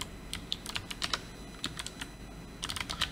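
Steady clatter of a computer keyboard as a folder name is typed, key presses coming in quick irregular bursts, close and fairly quiet, with no talk.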